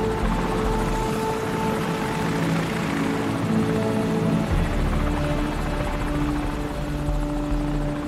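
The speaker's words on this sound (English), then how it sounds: "Enemy helicopter!" An enemy helicopter in the Call of Duty 4: Modern Warfare video game drones overhead, with a loud, steady rotor throb and engine whine that keeps going with no voices.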